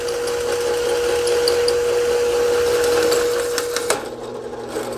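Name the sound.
hole saw cutting aluminum bumper mounting brackets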